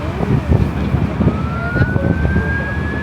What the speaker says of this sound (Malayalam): പോലീസിൻ്റെ സൗണ്ട് കേൾക്കുന്നു